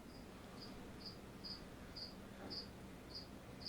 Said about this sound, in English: I actually have crickets.